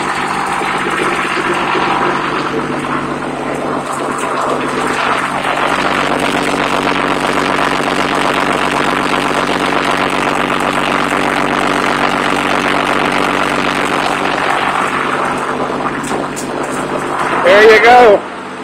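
Loud, steady rumble of a straight-piped CAT 3116 diesel idling on a 1997 Thomas MVP-ER school bus, close and continuous with no break, ending in a brief louder burst.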